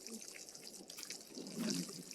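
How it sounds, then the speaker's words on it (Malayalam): Water trickles and splashes in a low, steady stream, faint and continuous with a slightly stronger surge near the end, and no voices. "വെള്ളത്തിൻ്റെ സൗണ്ടായി കേൾക്കുന്നത്"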